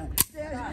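A single sharp gunshot at an outdoor firing range cracks near and loud at the start, followed by a brief quieter tail with faint background sound.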